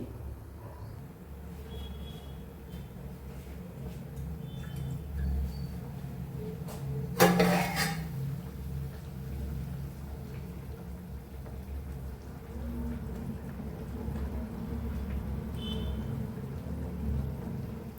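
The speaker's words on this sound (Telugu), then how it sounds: "రైస్ ఉడుకుతుంది" Rice boils in a pot with continuous, dense bubbling and popping, steady and close, broken once by a brief louder clatter partway through.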